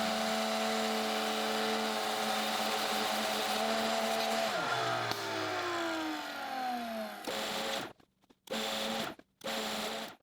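A router cuts a mortise for the lower stretcher of a temporary workbench, a loud steady whine that drops in pitch as the bit bites into the wood, then spins down, followed by a few shorter bursts, close and alone.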